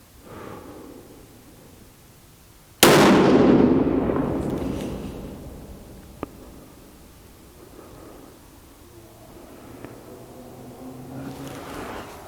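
A Ruger M77 rifle chambered in .270 or .30-06 fires a single loud shot outdoors, a sharp crack followed by a long rolling echo that fades over several seconds, with a faint second report later.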